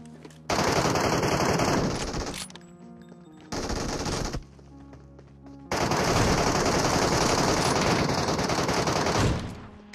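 An MG3 machine gun firing in PUBG Metro Royale: loud sustained bursts of rapid fire. A long burst is followed by a short one, then a pause, then a long final burst, with almost no talk over it.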